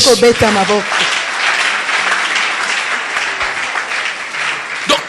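Congregation applauding at an evangelical church sermon, a sustained dense wash of clapping lasting several seconds, with a voice speaking briefly at the start over it.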